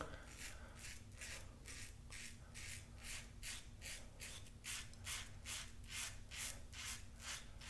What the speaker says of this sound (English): Mowing right through my beard.